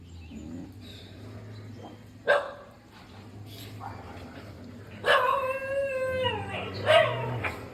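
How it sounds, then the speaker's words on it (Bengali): Dogs bark and howl in a few loud outbursts while fighting dogs from another neighbourhood, with quieter whimpering between them, fairly close by. "বেপাড়ার কুকুরদের সঙ্গে ঝগড়া করতেছি শয়তানগুলো"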